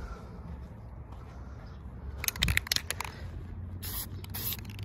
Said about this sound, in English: Let's spray Dooku's.